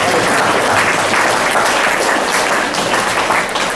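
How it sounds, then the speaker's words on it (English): An audience at a 1975 high school class gathering claps steadily, a dense, loud and even wash of applause that carries on without a break. "you should give yourself a round of applause just for showing up"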